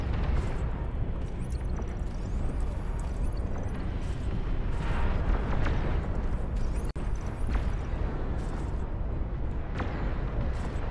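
Continuous rumbling explosions from a massive battle in the real-time strategy game Beyond All Reason, dense booms and crackling blasts layered over one another at steady loudness for the whole stretch.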